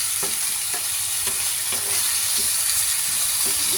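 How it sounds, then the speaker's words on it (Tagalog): Chicken liver and gizzard being sautéed with potatoes in a pan, a steady sizzle under repeated scraping stirs of a spatula, close and continuous. "Igisa natin ang ating chicken liver"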